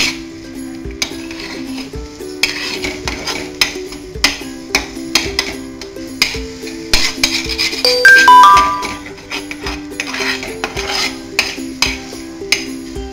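Egg masala stuffing stirred in a pan, with repeated soft scraping and clinking of a spoon against metal in an uneven rhythm over a steady low hum, close and moderately loud, without talk.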